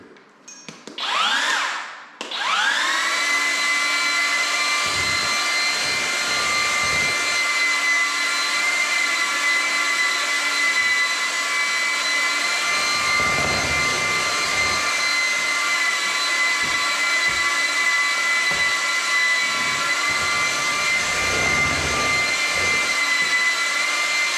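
A Flex cordless mud mixer runs steadily in low gear at speed 3, a loud continuous motor whine with strong harmonic tones that starts after a brief spin-up and holds alone with small load variations as it churns the mix.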